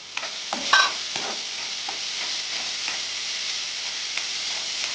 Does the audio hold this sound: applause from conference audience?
no